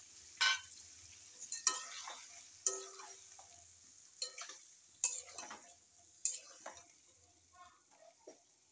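Ground nut paste goes into a pan of simmering gravy for a pointed gourd and yogurt curry, followed by several sharp spoon scrapes and clinks against the metal at irregular intervals over a soft sizzle, near and moderately loud, with no talk.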